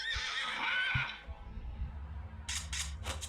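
A horse in the video game Battle Realms gives a loud, shrill whinny, followed by quieter low thuds and a few sharp clicks.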